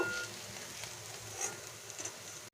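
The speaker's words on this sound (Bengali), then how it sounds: "এবারে ওই বড়া ভাজা তেলে আমি গোটা জিরে দিলাম তেজপাতা দিলাম ফোড়নটাকে ভালো করে ভেজে নিলাম" Whole cumin seeds and bay leaves sizzle in oil left over from frying pumpkin fritters, a soft, faint, steady crackle with a few brighter pops that cuts off abruptly at the end.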